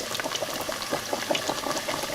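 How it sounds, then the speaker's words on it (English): Two large Fleischkuechle, meat-filled pastries, fry in hot oil, giving a busy, close bubbling crackle with rapid irregular pops throughout. "And we're going to fry these until they are golden brown and turn once."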